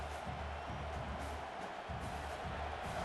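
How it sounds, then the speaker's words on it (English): A college football stadium crowd roaring during a Kent State versus Oklahoma game, a dense, distant wash of cheering that stays level for the whole stretch without a break. "Listen to this crowd just shaking the girders of this place, trying to help their defense"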